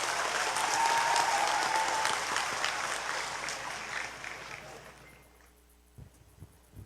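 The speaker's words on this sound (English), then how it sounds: "Let us all give ourselves a very big round of applause." Graduates at a 43rd commencement exercise break into a big round of applause that rings out loudly, then gradually fades away, leaving near quiet with a couple of faint knocks at the end.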